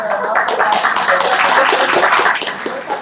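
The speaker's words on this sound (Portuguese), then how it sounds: "Alexandre, nosso aplauso" A group claps together in a short, lively round of applause, close by, with a few voices mixed in.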